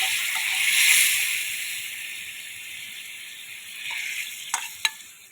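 Jackfruit seed and mango curry stirred in a pot, a steady soft bubbling hiss with a louder swell early on and a few sharp scraping clicks of the spoon near the end, no voices.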